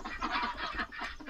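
Ducks on a farm in the Farming Simulator 19 game quack in a rapid, close cluster of nasal honking calls.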